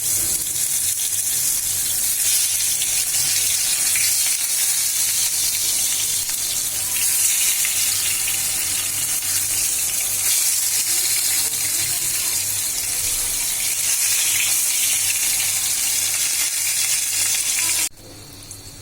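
Eggplant slices seasoned with turmeric and salt fry in hot oil, a steady loud sizzle and crackle that holds evenly throughout before cutting off near the end.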